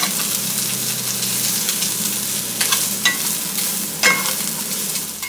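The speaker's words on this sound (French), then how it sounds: "On fait donc revenir nos légumes à feu moyen pendant 2 minutes" Vegetables frying with a drizzle of oil in a pan over medium heat for chicken with vegetables, a loud close sizzle with several scraping stirs of a utensil, without any voices.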